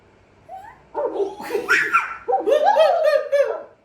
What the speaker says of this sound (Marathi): डॉगी की आवाज निकालो